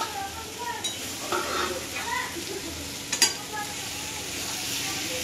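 Jackfruit, potato and prawns fry together in a pan with a steady low sizzle, stirred with a few scraping clicks and one sharper clatter near the end.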